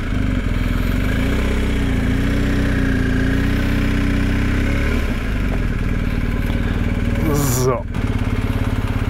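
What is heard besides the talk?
motorcycle engine idling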